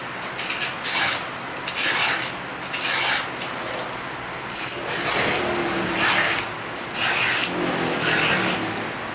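A hand file sharpens the teeth of a chainsaw chain. Close, rasping strokes repeat in a steady back-and-forth rhythm, each one lasting under a second, with no talk.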